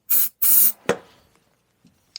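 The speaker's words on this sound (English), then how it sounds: "So if I spray some of this in each of the throats here," Aerosol spray hisses into the throats of a carburetor in two short, sharp bursts close by, followed by a metallic clunk and faint handling sounds.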